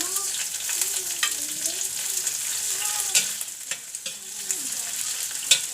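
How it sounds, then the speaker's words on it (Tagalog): Onion added to tofu browning in a pan, with continuous close sizzling broken by a few sharp scrapes and clacks as it is stirred in. "Next, lagay na natin ang onion."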